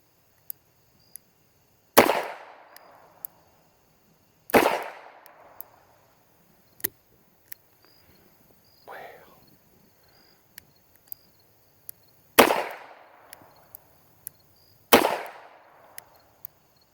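An H&R 733 revolver in .32 S&W Long fires double action outdoors: four sharp, loud shots spaced a few seconds apart, with lighter clicks between them and one softer muffled pop.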